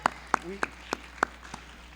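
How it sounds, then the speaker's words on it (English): A handful of students clapping for their teachers at a high school family night, about six sharp, separate claps spaced unevenly over two seconds, close and sparse. "Students, give a round of applause for your teachers here, okay?"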